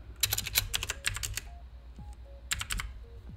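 Bursts of typing on a computer keyboard while laying out a book cover in Microsoft Word, close and clear, in quick clattering runs separated by short pauses.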